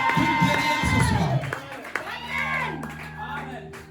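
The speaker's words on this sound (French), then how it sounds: "Donne-moi des acclamations des guerriers ce soir." A congregation cheers and claps at a worship gathering: loud crowd shouting and whoops with scattered clapping, then a sung or sustained vocal rising over the noise as the cheering fades.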